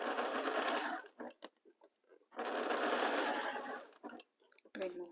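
Two bursts of a sewing machine stitching fabric, each about a second or two long, separated by quiet handling noises and a brief pause, with a short final start at the end.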